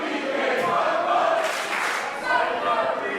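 A Texas Pro championship wrestling audience keeps up a steady, loud roar of cheering and shouting, with brief surges of yelling across the arena.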